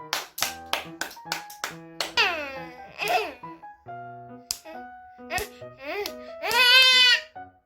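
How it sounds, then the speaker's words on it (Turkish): Sharp hand claps sound close by in a home, several quick ones at first and more scattered ones later, mixed with a small child's babbling and squealing. "Hadi o zaman alkışlayayım"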